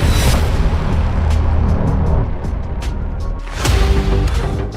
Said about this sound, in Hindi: मिसाइल टैंक की तरफ बहुत तेजी से बढ़ती है और इजराइल के मरकावा में बहुत बड़ा धमाका होता है।